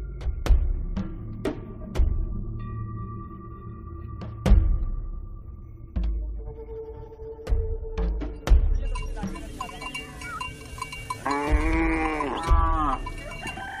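A herd of about thirty cows at an African boma, with sharp cowbell clanks striking irregularly through low bovine rumbling, and a drawn-out moo near the end.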